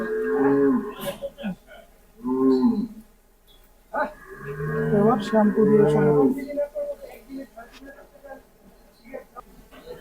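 Cattle low in several drawn-out moos at a dairy farm where a calf has just been born, loud and close, separated by quieter gaps.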